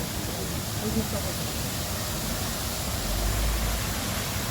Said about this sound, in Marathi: इकडे पाण्याचा फॉल आहे.